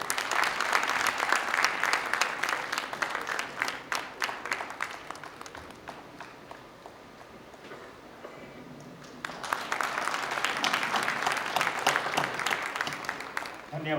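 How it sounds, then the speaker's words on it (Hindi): An audience at an onstage conversation about film directing applauds. Dense, sustained clapping eases off in the middle, then swells again to a full round. "आप तालियां बजा सकते हैं।"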